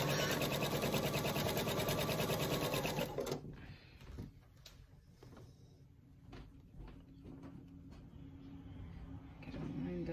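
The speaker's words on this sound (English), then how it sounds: "Gonna sew it together just like a nine patch and chain them through at a quarter of an inch." A sewing machine chain-pieces quilt block pieces at a quarter-inch seam, running fast and loud for about three seconds before stopping, followed by quieter handling and faint rustles as a voice talks.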